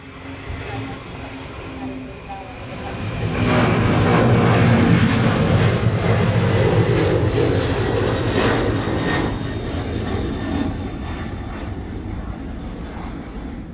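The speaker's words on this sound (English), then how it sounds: "Another Delta's coming down the Romeo Bravo taxiway." A Delta airliner taxis at an airfield in Hawaii, a broad jet rumble and whine that swells from moderate to loud after a few seconds and then lingers, with voices talking faintly over it.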